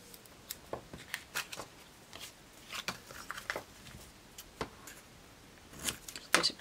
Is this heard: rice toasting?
no